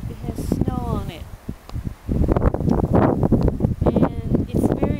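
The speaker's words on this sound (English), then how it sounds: "it's very windy today" Strong wind buffets the microphone with a steady, rough roar near snow-capped Mount Fuji in Japan while people talk and call out over it.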